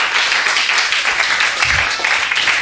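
Church congregation applauding during a French-language worship service, a steady dense wash of clapping filling the whole stretch without a break.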